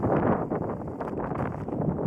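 Wind gusts through a valley, a loud, continuous buffeting rumble close to the microphone with slight surges and no voices.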